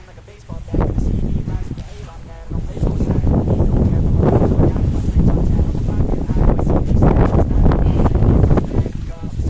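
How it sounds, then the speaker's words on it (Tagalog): Strong, gusty wind roars steadily against the microphone outdoors while planting rambutan, with low rumbling buffeting throughout and some talking underneath. "Lakas ng hangin."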